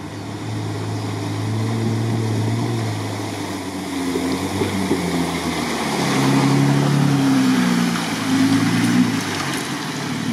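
An American car drives off-road through water and rough ground, its engine a low, steady rumble that rises and falls with throttle, heard from moderate distance with no talk.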